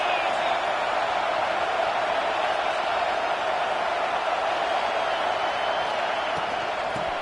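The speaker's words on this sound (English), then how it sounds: "This crowd trying to make life miserable for this offense." Crowd noise fills a college football stadium in a steady, loud roar of many voices, unbroken from start to finish, with broadcast commentary mixed faintly into the din.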